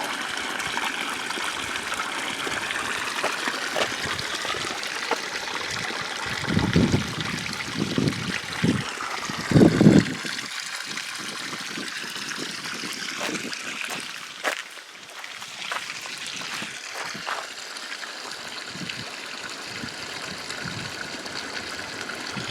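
Spring water trickling straight out of the ground at Josie's Cabin in Dinosaur National Monument, a steady close trickle and gush with brief louder splashy bursts, no voices.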